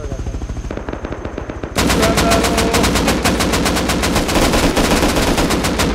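Rapid automatic gunfire in the survival game Rust, a quieter burst followed by a loud, sustained stream of evenly spaced shots with no talking.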